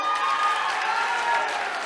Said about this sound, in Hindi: उनके लिए एक जोरदार ताली बजाई जाए